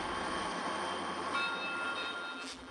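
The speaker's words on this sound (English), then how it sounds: "the Rocky Mountaineer is just now coming in from its run from Vancouver" Rocky Mountaineer tourist train pulling into Banff station after its run from Vancouver, a steady broadband rumble of rolling cars with faint sustained high tones, loud and continuous throughout.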